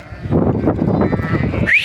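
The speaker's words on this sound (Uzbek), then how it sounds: "Mana barakali qo'ylarimiz yana." Lambs and sheep at a large livestock sale, a dense crowd of overlapping bleats and bustle in an outdoor pen, with one higher bleat near the end.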